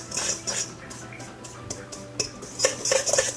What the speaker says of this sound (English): We'll just give it a stir